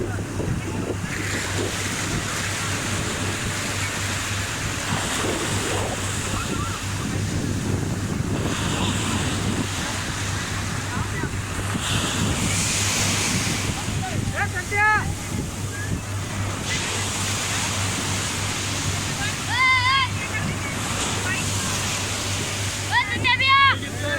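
Sea waves at a Goa beach wash in continuously with gusty wind noise, a steady surf roar with faint chirps and muffled background activity.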